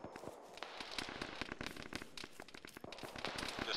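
Distant gunfire from enemies on a hangar roof in a video game: rapid, crackling shots popping continuously and irregularly at a moderate level, with no clear talk.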